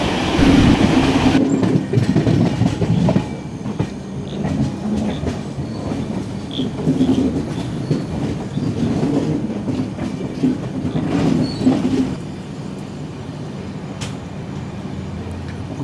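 A Jan Shatabdi Express with LHB coaches runs near Kayamkulam Junction, its wheels clattering rhythmically over the rails in a loud rolling rumble that eases off toward the end, with no talking.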